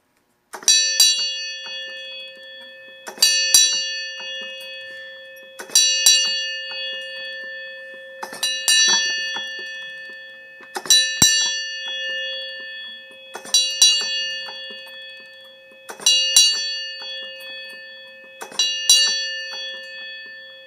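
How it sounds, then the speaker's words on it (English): A Wi-Fi enabled electric bell strikes eight times at an even pace to chime the hour, each ring bright and sustained before fading, alone with no talking. "This is my Wi-Fi enabled bell. It's about to chime the hour in just a couple seconds here."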